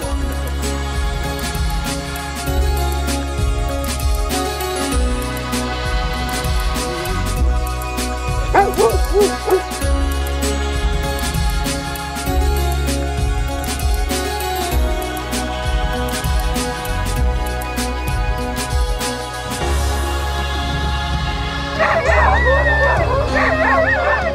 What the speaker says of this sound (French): Rien que d'entendre les voix des chiens, j'aime bien.